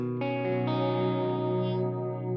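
A sustained bass note rings through a Walrus Audio Bellwether analog delay pedal, its repeats wavering with a slow chorus-like modulation, steady and moderately loud.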